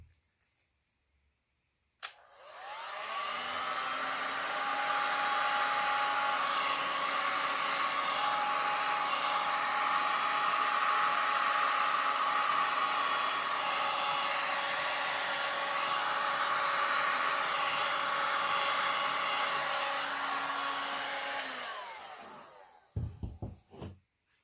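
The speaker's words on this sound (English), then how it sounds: "And then I'll hit it with the heat gun again." Heat gun blowing on epoxy resin beach-wave art: a steady electric whir and rushing airflow switches on after a couple of seconds, holds evenly for about twenty seconds, then cuts off, with faint handling noises at the end.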